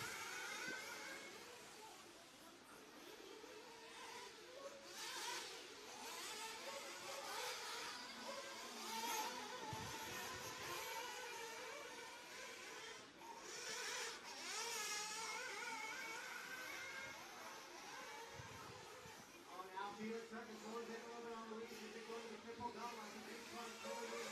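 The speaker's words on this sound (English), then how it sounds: "let's drop back to these two cars coming over the invisible speed gate bridge right there" Small RC race cars whine along a racetrack during a qualifying race, their high electric buzz rising and fading as they pass at moderate distance, with a commentator talking over them throughout.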